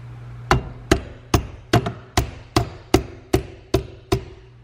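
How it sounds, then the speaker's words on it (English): Ten sharp metallic knocks from a Craftsman torque wrench striking a shifter clip during a Hybrid Racing shifter install on an Acura TSX, evenly spaced about every half second, close and loud with no talking. "I'm gonna hit it with a little, I guess, torque wrench works."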